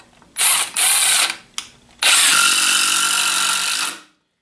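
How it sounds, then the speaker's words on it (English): Milwaukee M18 FUEL 2653-22 impact driver sinking a screw at its third speed setting, 1600 inch-pounds: two short bursts and a brief blip, then one loud sustained rapid ratcheting hammer run of about two seconds, close up with no talk. "if you want to bump it up to the 3rd speed setting, which is 1600 inch-pounds, here's how fast it'll drive that same exact screw in"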